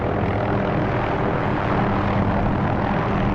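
An OH-6 helicopter lifts off in the DCS World flight simulator, its engine and rotor making a loud, constant drone that fills the whole stretch with no talking.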